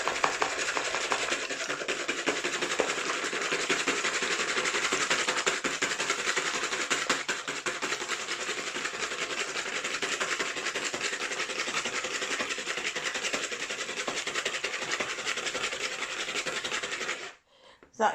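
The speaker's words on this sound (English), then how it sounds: "get these whisked up with our little whisk" Eggs whisked in a bowl with a small whisk for bread and butter pudding, a steady dense scraping rattle running continuously and fairly loud for most of the clip before stopping abruptly near the end.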